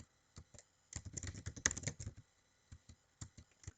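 Keys clack on a computer keyboard in quick irregular bursts, a dense run of taps in the middle flanked by scattered single strokes, close but fairly soft.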